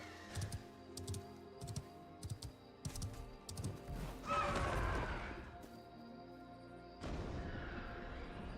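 A horse whinnies in the online video game Ashes of Creation, one clear neigh in the middle, surrounded by rapid keyboard typing and game effects.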